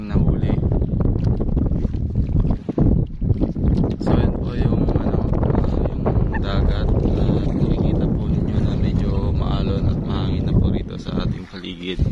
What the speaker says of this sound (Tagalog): At medyo lumalakas na po yung hangin.